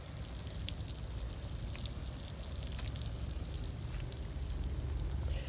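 Water pours from a watering can with a wooden handle onto transplanted radish seedlings in a watering tray, making a steady soft hiss and patter that lasts throughout.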